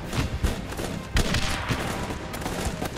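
Rapid video game gunfire in Guns Up, a quick string of sharp pistol and rifle shots crackling over a busy battlefield, loud and close with no pauses.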